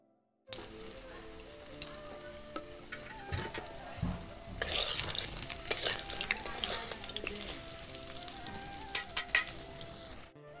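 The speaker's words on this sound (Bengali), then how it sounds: "তেল দিয়ে এবার আমি আলু ভেজে নেব" Potatoes fry in mustard oil in a wok. After a short silence a gentle sizzle begins, then swells into a louder, busier crackle of frying with occasional stirring, all heard up close.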